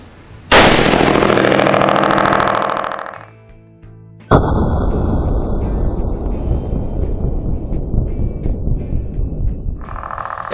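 A .308 rifle fired through a muzzle brake at an outdoor range, one sharp deafening blast that rings out for about three seconds, followed by a second loud burst whose roar trails off over several seconds.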